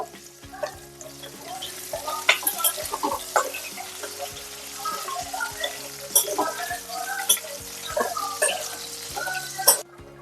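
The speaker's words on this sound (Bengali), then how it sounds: "তো আমার মাছগুলো ভাজা হয়ে গেছে" Fish fries in a pan with a continuous crackling sizzle, broken by sharp clinks and scrapes of a utensil stirring and turning the pieces.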